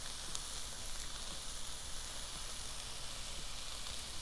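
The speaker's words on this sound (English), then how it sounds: "So I'm going ahead and adding my andouille sausage to that pan." Andouille sausage, already fully cooked, browning in its own grease in a pan gives a steady, even sizzle with a constant hiss, fairly close and with no talk over it.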